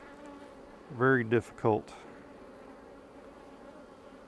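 Honey bees buzz in a steady, low drone from an open, crowded beehive, with a voice speaking briefly over the hum.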